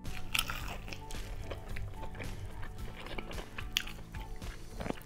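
Close crunching and chewing of crispy fried chicken, with repeated crackly bites and munching continuing throughout.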